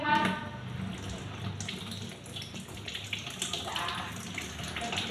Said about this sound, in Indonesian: Siapkan 1 batang serai, kita cuci terlebih dahulu.